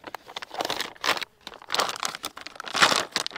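A plastic meal ration heating bag being folded shut, giving repeated bursts of close, loud crinkling and rustling separated by short quiet gaps.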